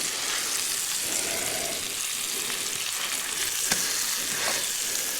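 Vegetables sizzling and frying in a pan on a camp stove outdoors during winter camping, a steady close hiss with occasional pops and faint stirring.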